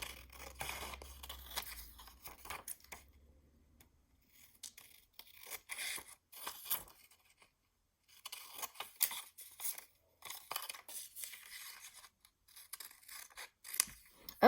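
Scissors snipping through paper to cut out a parallelogram shape, close and quiet, in several bursts of rapid blade strokes separated by silent pauses.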